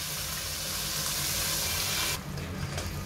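Water pours into a hot pan of frying rice with chopped tomatoes and garlic for Mexican rice, giving a loud, dense hiss and sizzle that drops abruptly near the end as the boiling settles.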